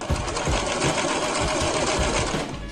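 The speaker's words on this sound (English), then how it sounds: "sew a little tack on the collar to keep the collar down and to keep the tie in place" A sewing machine runs steadily, stitching a small wide cross-stitch tack at the corner of a collar to hold it down, a loud continuous mechanical whirr with fast needle chatter and no talking.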